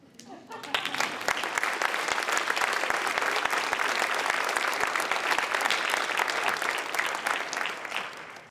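A large audience at a health research and education symposium keynote breaks into sustained, loud applause lasting several seconds, dense steady clapping that tapers off slightly at the end.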